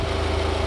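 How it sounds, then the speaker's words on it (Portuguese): Car engine idling steadily after its diaphragm was replaced, a close, even low rumble with a regular pulse throughout the short stretch and no talk. "o motor não perde a marcha lenta"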